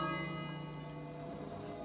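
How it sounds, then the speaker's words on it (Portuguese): A single bell in a video game rings out with a long, bright, sustained tone that slowly decays, clear and unaccompanied. "Agora toca esse sino aí, toca o sino."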